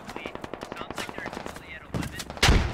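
Rapid bursts of automatic gunfire in the SquadOps military shooter game, a steady rattling string of shots followed by louder, heavier blasts near the end, with faint voices underneath.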